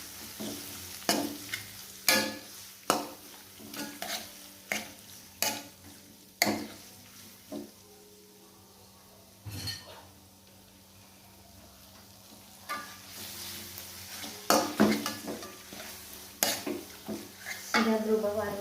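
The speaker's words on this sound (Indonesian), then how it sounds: "kita masukkan bumbu-bumbu yang sudah diulek tadi. Jahe, ada jahe kuning, kemiri." A ground paste of ginger, turmeric and candlenut sizzles steadily in a hot pan as a utensil stirs it, with sharp repeated scraping knocks against the pan, near and clear, and faint speech now and then.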